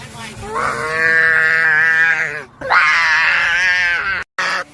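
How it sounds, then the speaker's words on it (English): A young child lets out two long, loud, groaning screams in zombie play, close to the microphone, with a short break between them. "scream at Daddy"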